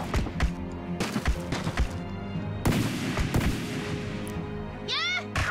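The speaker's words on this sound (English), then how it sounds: "How did it shoot fire out when I threw it?" A thrown item bursts into fire in the video game Amazing Princess Sarah, heard as several sharp impact cracks and booms spread across the moment, with a rising chirpy whoosh near the end, loud and alone.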